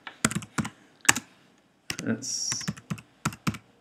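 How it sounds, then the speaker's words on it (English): Typing on a computer keyboard in short clusters of sharp, close key clicks with a brief pause, while a person speaks softly. "type this in"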